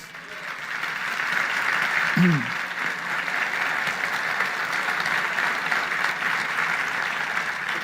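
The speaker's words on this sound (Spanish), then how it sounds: "Un aplauso al Rey de Reyes." A church congregation applauds together, a steady broad wash of clapping that runs the whole stretch while a preacher's voice speaks briefly over it.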